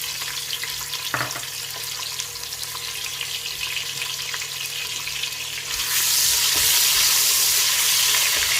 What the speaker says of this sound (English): Then I will allow it to fry for some few minutes.